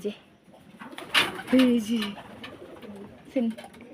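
Racing pigeons landing back at their loft after an 80-kilometre club toss coo softly several times at close range, with voices heard faintly in the background.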